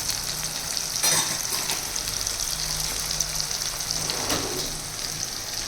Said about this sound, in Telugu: ఉల్లిపాయలు బాగా ఎర్రగా వేగాలండి.